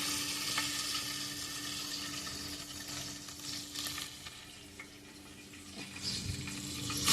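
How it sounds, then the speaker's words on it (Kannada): Mustard seeds sizzling and crackling in hot oil for tempering, with curry leaves added, a steady close frying hiss with small pops throughout, no talking. "ಒಗ್ಗರಣೆಗೆ ಇಟ್ಟಿದ್ದೇನೆ, ಸಾಸಿವೆ ಹಾಕಿದೆ"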